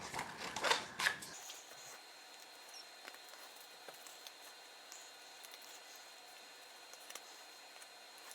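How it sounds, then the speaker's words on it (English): Scissors snip around a paper circle for a scrapbook layout, leaving faint, close crisp clicks and soft paper rustles after a brief louder handling noise at the start. "I can just grab some scissors and cut it out"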